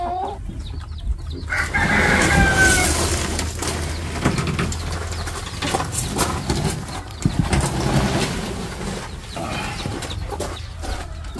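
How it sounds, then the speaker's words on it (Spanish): Farmyard chickens clucking while a rooster crows loudly on a ranch in the USA, with overlapping cackles and calls from nearby fowl against a busy outdoor background. "La gallina."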